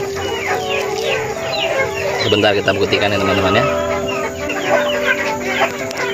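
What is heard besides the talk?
free-range chickens clucking while being fed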